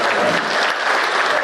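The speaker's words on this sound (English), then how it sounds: "Give it another round of applause" An audience at a local candidates' meeting applauds, a brief dense patch of loud, steady clapping with some crowd noise and a voice mixed in.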